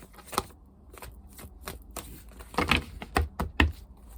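A deck of tarot cards is shuffled by hand in a series of close, crisp riffling and slapping bursts, quiet at first and then busier toward the end, with no voice.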